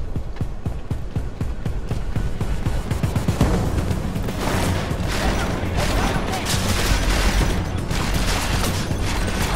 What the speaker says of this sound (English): Grenades for you all.